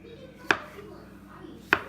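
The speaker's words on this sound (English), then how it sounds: "So now I'm going to start slicing my mushrooms." Two sharp, close knife strokes slice through mushroom caps on a cutting board, crisp separate chops about a second apart over a quiet kitchen background.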